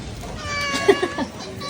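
A pet cat meows a couple of times up close, short rising cries over quiet room tone with faint background voices.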